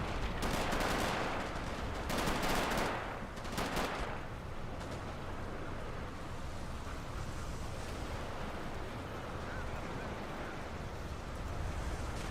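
A few sharp shot bursts ring out early from a Robz Mod tournament match featuring an AT rifle and a BA-64 armored car, then fade into a steady, faint noisy wash of battle ambience.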